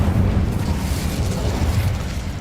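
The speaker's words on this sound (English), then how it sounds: "Incendio." Incendio fire spell cast in a video game, a loud, close, rumbling whoosh of flame that roars on steadily, no voices over it.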